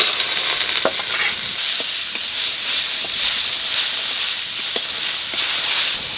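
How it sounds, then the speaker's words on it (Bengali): Tomato, onion and capsicum stir-fry in a hot wok with a loud, continuous sizzle and hiss, broken by sharp clacks and scrapes of a spatula tossing the vegetables. No speech. "আর এটা সবজিটা সেদ্ধ করবো না, মানে হালকা ওই 30 সেকেন্ড মতো ভাজবো, একটা ক্রাঞ্চি ভাব থাকবে।"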